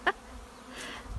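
A honeybee buzzes close up, tangled in hair beside a top bar hive, giving a brief sharp burst followed by a fainter continuing hum.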